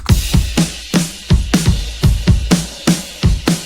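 An acoustic indie pop rock drum groove loops steadily, with punchy kick and crisp snare hits in a regular pattern and a ringing ride cymbal wash on top.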